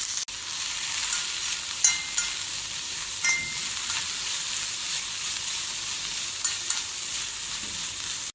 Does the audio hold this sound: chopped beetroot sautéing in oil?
yes